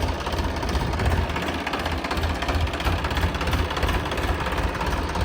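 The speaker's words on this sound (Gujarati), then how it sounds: "જો ટ્રેક્ટર" A tractor engine runs steadily on a village farm, a loud, close, continuous rumbling drone with no pauses or changes in pitch.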